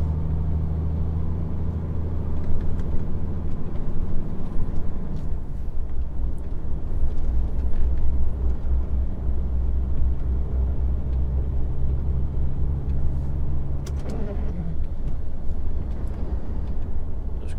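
Steady low road rumble of a wide vehicle hauling fencing in convoy on a narrow, wet road, a continuous close engine drone with tyre noise throughout and a brief shift near the end.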